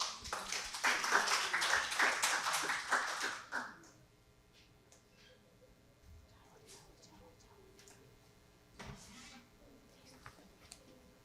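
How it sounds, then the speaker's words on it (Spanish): Audience applause at a university literary lecture event, a burst of many hands clapping for about three seconds that then stops abruptly, leaving a quiet room with faint shuffles and a few small sounds. "el público la recibe con un aplauso"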